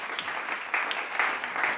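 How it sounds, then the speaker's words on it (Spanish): A church congregation claps together in steady, dense applause, fairly close and even, continuing throughout without speech over it. "Denle ese aplauso a Dios, mi hermana y hermano."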